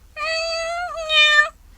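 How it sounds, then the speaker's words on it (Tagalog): A single clear, drawn-out meow from a house cat, close and distinct, lasting just over a second against a quiet background. "Ay, pusa!"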